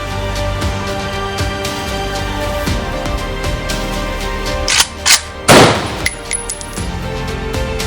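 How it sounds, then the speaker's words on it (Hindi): Gunshots from a firing-squad execution, a short cluster of sharp, loud bursts rising out of a dense, sustained sound bed. "सुबह सुबह उन्हें गोली मार दी गई।"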